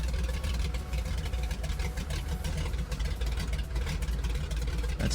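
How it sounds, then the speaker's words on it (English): Radial engine of a Grumman Goose boat plane idling in Florida, a loud, rough, steady low-pitched rumble with a lumpy pulsing beat, close by and alone with no talk. "I like to bring it back to idle for a second, just so we hear the gloriousness of the engine."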